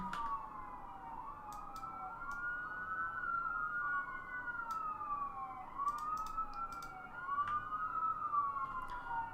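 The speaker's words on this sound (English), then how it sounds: "Oh, those sirens." Wailing emergency sirens rise and fall repeatedly at a moderate distance, overlapping one another, with faint traffic rumble underneath.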